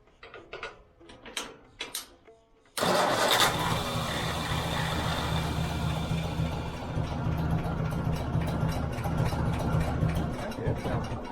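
A 1957 Ford tractor engine fitted with a new carburetor starts after a few faint knocks, then runs steadily with a loud mechanical clatter and even idle rhythm that continues to the end.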